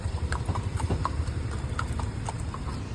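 Horse hooves clip-clopping steadily on a hard surface during a horse ride in Kochi, a string of close, repeated knocks over a constant low rumble of background noise.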